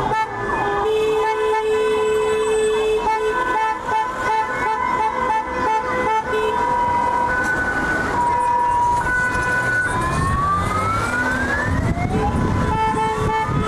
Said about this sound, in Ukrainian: Патріотичними гаслами і клаксонами привертають увагу до себе.